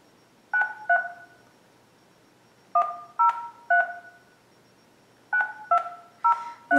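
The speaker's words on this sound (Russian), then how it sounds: "Давайте еще раз наберем" Telephone keypad tones sound while a number is dialed to Spain, loud close beeps in three quick clusters of two, three and four presses with short gaps between.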